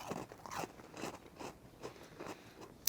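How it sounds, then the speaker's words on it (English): A crunchy cookie is bitten and chewed up close, giving a quiet rhythmic series of about six crisp crunches spaced roughly half a second apart. "Man, that's a good cookie. But chew slowly."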